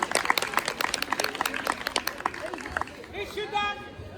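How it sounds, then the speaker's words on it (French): Audience applause and crowd noise at a twin magicians' stage show after a card trick, dense clapping for a few seconds that thins out, followed by voices and laughter from the crowd. "Un tonnerre d'applaudissements pour Adèle."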